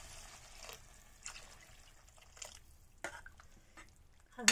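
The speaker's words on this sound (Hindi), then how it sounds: "अब मैं थोड़ा इसमें पानी डालूंगी।" Water is poured into a pan of cooking lotus stem curry, heard as faint splashes and trickles in short bursts, with a louder splash at the end.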